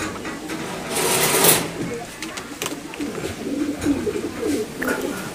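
Golden and Nildumma pigeons coo in soft, throaty murmurs that repeat through the stretch, close by, mixed with a continuous mechanical hum and faint background noise.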